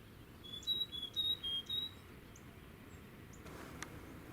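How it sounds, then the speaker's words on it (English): A chipping sparrow gives a quick series of thin, high chip notes outdoors at sunrise in the Texas Hill Country, faint against steady background hiss and then falling quiet. "Got another chipping sparrow."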